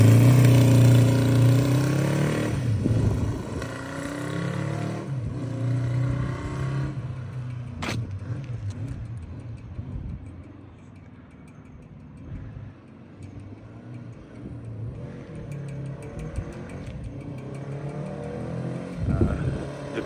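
A 1973 Honda CB350 Four motorcycle engine runs close by, idling with a smooth rumble, then rising in short revs before settling back, with a final blip near the end.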